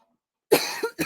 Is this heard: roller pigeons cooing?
no